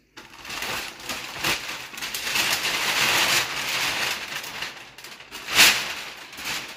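A 6 by 8 foot sheet of Tyvek crinkles and rustles continuously as it is handled and folded, a dense, papery crackle close by with one sharper crumple near the end.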